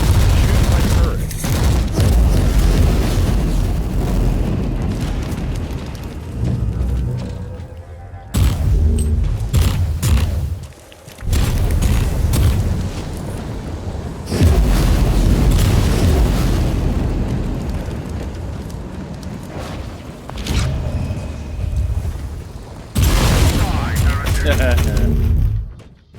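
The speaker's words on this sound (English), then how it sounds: "Yes, go ahead. Shoot my turret." A turret fires in the Warhammer 40k: Inquisitor-Martyr video game, producing loud repeated bursts of booming shots and blasts. The bursts run for long stretches, with short pauses between them, and a voice talks over parts of the fighting.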